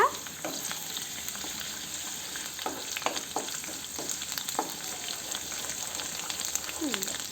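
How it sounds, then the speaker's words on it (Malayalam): Five or six cloves of finely chopped garlic fry in a pan for pasta, with a steady close sizzle of hot oil and repeated scraping and knocking as the garlic is stirred. "ഇനി അതിലേക്ക് 5-6 വെളുത്തുള്ളി കുനുകുനാന്നരിഞ്ഞത് ഇട്ട് കൊടുക്കാം. ഇട്ട് നല്ല രീതിയിൽ ഇളക്കുക."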